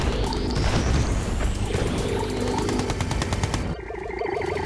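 Gatling tanks firing in the Red Alert 2 strategy game: loud, dense rapid-fire rattling bursts with explosions and mechanical whine throughout, ending in a rhythmic lighter clatter.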